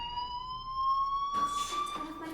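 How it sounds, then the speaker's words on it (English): Fire alarm in the video game Life Is Strange, a steady high electronic tone held throughout, joined midway by a brighter, noisier burst of sound, with no speech. "do you hear that fire alarm? That means you should be outside."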